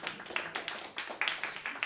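Scattered hand claps from an audience at a music education symposium, light and uneven with individual claps standing out, fairly close and heard alone.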